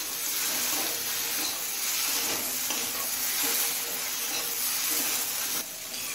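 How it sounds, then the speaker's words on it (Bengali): Taro stolons (loti) fry on a low flame, making a dense, continuous sizzle with soft stirring underneath, close and steady throughout with no talking. "লতিটা একদম লো ফ্লেমে মিনিট 5-6 ভেজে নিলাম।"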